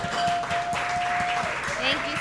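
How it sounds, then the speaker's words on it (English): Applause from an audience at a charity chef competition event, brief clapping mixed with voices and a steady tone, moderately loud and close. "Let's give that a round of applause."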